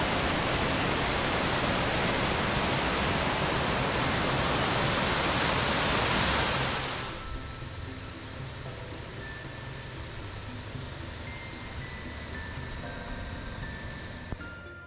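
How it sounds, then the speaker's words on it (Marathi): Rushing mountain waterfall near Munsiyari, a loud, steady broadband roar that stops abruptly about halfway through, leaving a quieter hum of distant water and faint ambient sounds. "या स्पॉटवर आम्हाला पहाडातून खळाळत येणारा एक धबधबाही दिसला"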